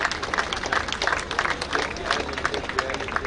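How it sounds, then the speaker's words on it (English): Audience applause at a badminton tournament prize distribution ceremony, a steady dense patter of many hands clapping continuously without pause, fairly loud and close. "keep the claps going, ladies and gentlemen"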